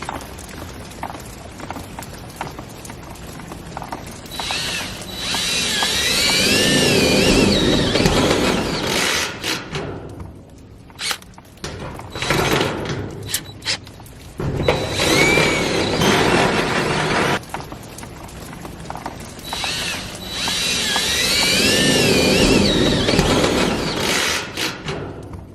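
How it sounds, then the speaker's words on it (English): A step drill bit boring a hole during a horse barn build: long grinding, whirring drilling runs close by, rising and falling in loudness, broken by short pauses and a few clicks. "This is the drill bit, it's a step drill bit, so it starts small and just gets bigger and bigger and bigger."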